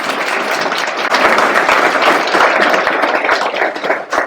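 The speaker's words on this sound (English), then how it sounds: "Let's give her another round of applause." Audience at a gala applauding, a dense, steady wash of many hands clapping at close range that holds loud for about four seconds before starting to thin.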